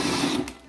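A cordless drill turning a mixer paddle whirs in a short, steady burst, close and fairly loud, then winds down.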